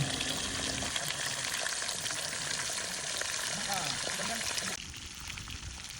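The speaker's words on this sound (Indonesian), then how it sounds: "Setelah minyaknya panas, langsung saja kita masukkan ikannya." A steady, loud crackling sizzle of fish frying in hot oil in a wok fills the clip, dropping a little in intensity near the end.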